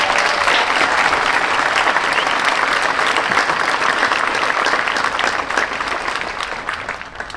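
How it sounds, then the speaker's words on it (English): A crowd at a high school graduation ceremony gives the graduating class a loud round of applause, sustained, thick clapping close by that keeps going and eases only slightly near the end. "I would like to ask for a round of applause for Schalick High School's graduating class of"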